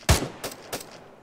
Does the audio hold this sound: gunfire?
yes